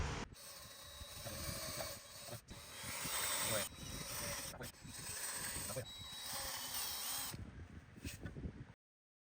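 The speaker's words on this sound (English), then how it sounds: "we decided to sand all of its pieces to its final grit before attaching" Pieces of a sharp-edged, complex table are sanded to final grit, a continuous whirring rasp, close and moderately loud, broken by several brief pauses.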